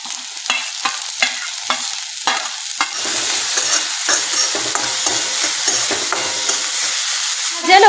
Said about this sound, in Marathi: कांदा, शिमला मिरची आणि गाजर सगळे आपण एकसाथच टाकूया।